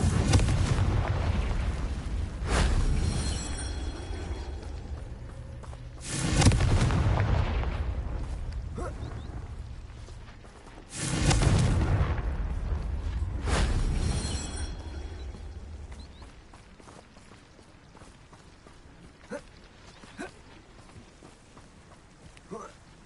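A Confringo spell in Hogwarts Legacy, several loud booming explosions with long rumbling decays, some crackling bursts between them, and a voice speaking over parts of it.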